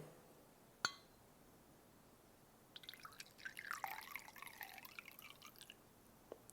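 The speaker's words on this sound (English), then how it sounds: "I'm going to get it really close to the mic so you can hear it pour" A drink poured right up close to the microphone in a garage setting, a single clink followed by a few seconds of bubbly, splashing liquid trickling into a glass, close and moderately loud.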